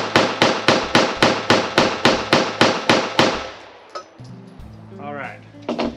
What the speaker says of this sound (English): This guy's not zeroed, so I'm just gonna go ahead and pop off the 16 rounds left in the mag.